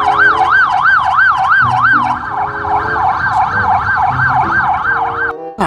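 A toy police siren wails in a steady, rapid up-and-down warble, loud and close, with faint handling clatter underneath before it cuts off.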